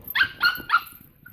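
A puppy lets out three quick, high-pitched barks in a row, close and clear, followed by a faint trailing yip and no talking.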